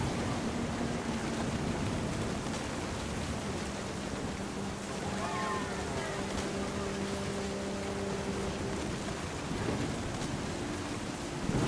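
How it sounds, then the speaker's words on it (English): Steady heavy rain hisses throughout a thunderstorm in the video game What Remains of Edith Finch, with low thunder rumbling beneath and faint tonal music drifting in around the middle. "Thunder sounded much too close and full of angry power."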